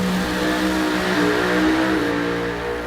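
A ProCharger-supercharged Willys drag car roars down the strip at a drag racing meet, a loud sustained engine howl with rising and shifting pitch, heard alone without talking.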